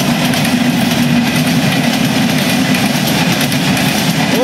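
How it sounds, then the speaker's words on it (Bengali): A long train passes close by on a village railway line, a loud continuous rumble with steady clattering of wheels over rail joints, sustained throughout with no speech. "ট্রেন যাচ্ছে"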